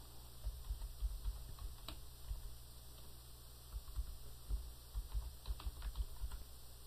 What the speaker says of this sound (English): Let me go ahead and type in the name.